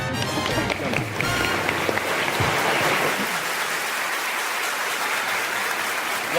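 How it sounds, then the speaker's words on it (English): Audience applause at an evening gala dinner event, a dense burst of many hands clapping close by that carries on steadily throughout. "So I applaud you, sir."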